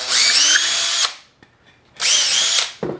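Two loud bursts of a power drill whirring as it bores a hole for cabinet hardware, each about a second long with a quiet pause between, followed by a brief clatter.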